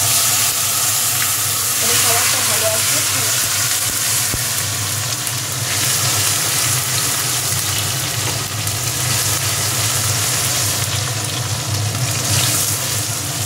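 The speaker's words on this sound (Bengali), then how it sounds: "হ্যাঁ, তেলের মধ্যেই টমেটো দিয়ে দিচ্ছে।" Tomatoes fry in hot oil over a tempering of dried red chilli, cumin and a bay leaf, making a loud, steady, close sizzle that runs unbroken throughout.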